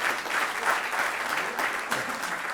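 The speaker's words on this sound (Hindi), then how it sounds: "तालियां बजाएं आप जोरदार।" A theatre audience at a staged comedy play applauds vigorously, a dense and steady clapping that fills the whole moment at close range with only a faint voice beneath.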